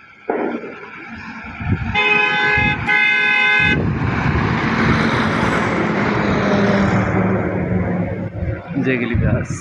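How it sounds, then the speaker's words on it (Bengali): Busy road traffic on the Asian Highway, with a loud car horn sounding in two short steady blasts near the start, followed by continuous engine and tyre rumble of passing vehicles close by. "এই যে এশিয়ান হাইওয়ে।"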